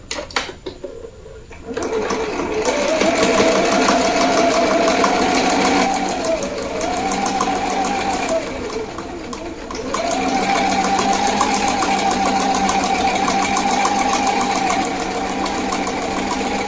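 A sewing machine runs loud and steady while stitching a boning channel on the back of a corset bodice, whirring continuously with a short slowdown midway.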